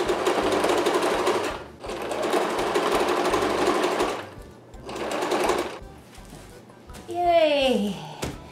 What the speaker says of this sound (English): And let's sew the last one.